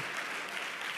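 A church congregation breaks into dense, sustained applause in a brief burst, with no speech over it.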